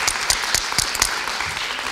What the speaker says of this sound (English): I'd like to applaud her